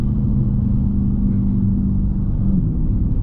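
A Dodge Charger 392 Scat Pack V8 heard from inside the cabin during a rev-matched downshift, producing a steady, loud low rumble that holds throughout with no distinct rev spike.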